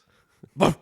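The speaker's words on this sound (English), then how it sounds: "Apologies for the dog noises." A dog gives a short nasal whimper and then one brief, loud bark-like yelp at close range, all within a second, in an otherwise quiet room.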